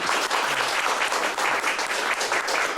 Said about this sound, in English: let's all give him a round of applause anyway